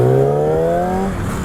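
A Yamaha R6 sport bike held in first gear for a wheelie attempt, its engine revving hard with a steadily climbing pitch before easing off, loud and close with no talk.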